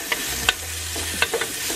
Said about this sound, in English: These have sauteed up a bit.